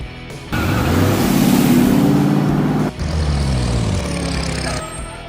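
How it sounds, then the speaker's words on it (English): A subcompact car engine revs up loud and near, holding a buzzy drone, dropping off for a moment, then pulling away again at a steadier pitch until it cuts off. "Subcompact car."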